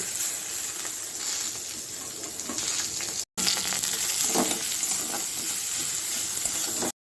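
Food frying on low flame in a pan with mustard paste and spices, a steady close hiss and sizzle with occasional stirring scrapes and a couple of short cut-outs.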